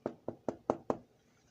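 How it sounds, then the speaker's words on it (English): Five sharp knocks rap on a hard, wood-like slipcase for a hardcover Marvel comic book, evenly spaced and close, each with a quick fade, then quiet. "You can knock on it like wood."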